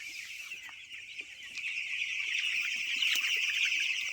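Broiler chickens in a poultry farm at night on a winter evening, many birds clucking and chirping together in a steady, dense flock murmur at moderate distance, without talking.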